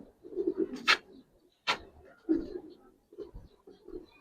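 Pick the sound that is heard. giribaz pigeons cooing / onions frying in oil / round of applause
giribaz pigeons cooing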